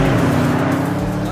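A Porsche Panamera Turbo S saloon on a racetrack braking into a chicane, its engine a loud, steady, close drone throughout with a faint hiss of tyres.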